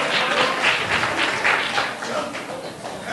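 Audience applause at a school presentation event, a steady wash of many hands clapping that holds at a moderate, even level for about three seconds with no voices standing out.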